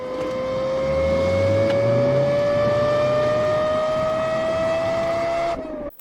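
A car engine runs steadily and loudly at close range, its tone climbing slowly for about five seconds before cutting off abruptly.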